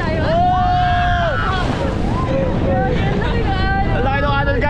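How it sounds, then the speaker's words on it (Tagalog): Big sea waves wash and surge around an extreme dragon boat ride off Liwliwa, Zambales, under constant wind buffeting the microphone, with excited voices shouting and calling out over the rush of water. "Ang laki ng alon guys, ayun oh!"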